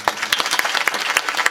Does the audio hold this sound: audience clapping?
yes